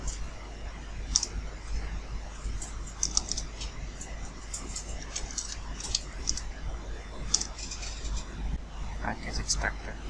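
Computer keyboard typing a command on Oracle Linux, heard as irregular bursts of light clicks over a steady low hum, with a voice talking faintly in the background.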